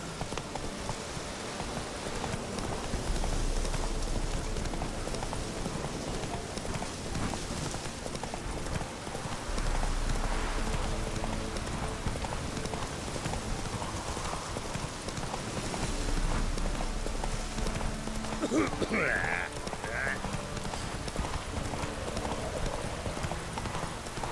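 A horse gallops in The Witcher 3 with a steady, fast clip-clop of hooves over a constant rain-like patter, continuous and fairly close throughout.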